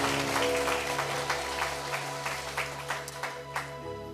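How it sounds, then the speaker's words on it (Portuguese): Church congregation applause during a worship service, steady scattered clapping throughout, heard alongside sustained background music and an organ-like drone, fairly loud and close. "Dá uma salva de palmas ao Senhor."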